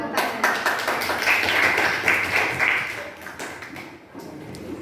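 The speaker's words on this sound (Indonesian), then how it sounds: "Tepuk tangan." Students in a classroom clap together after a group presentation, a loud scattered patter of many hands that tapers off near the end, with some voices mixed in.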